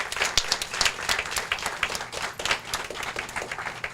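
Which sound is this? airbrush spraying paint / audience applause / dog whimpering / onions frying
audience applause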